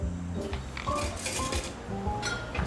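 Ice cubes clink and rattle into a glass while a Brisbane Mule cocktail is built, several hard clattering impacts and tinkling ringing tones following one another close up.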